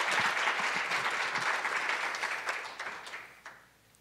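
Audience applause fills an awards banquet hall, steady dense clapping from a crowd that holds strong for about three seconds and then tapers off toward the end.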